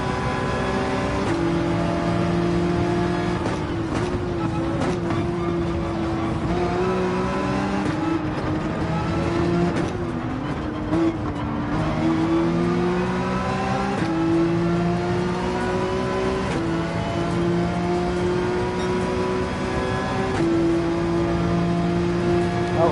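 Nissan Skyline race car engine at the Red Bull Ring in Gran Turismo 7, revving steadily with rising and falling pitch through gear shifts, continuous and prominent for the whole stretch.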